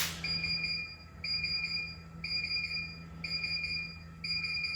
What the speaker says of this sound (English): the power chiller was left turned on. So that's why that's beeping like crazy